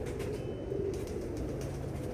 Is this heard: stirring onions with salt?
no